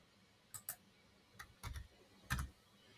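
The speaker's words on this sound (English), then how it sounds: "Now I'll just type in country" Quiet computer keyboard typing in a calm indoor setting: a few short bursts of crisp key clicks, two quick taps, then small clusters, close and soft with no talking.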